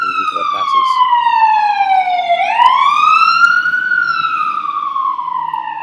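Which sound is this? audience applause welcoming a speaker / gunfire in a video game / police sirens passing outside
police sirens passing outside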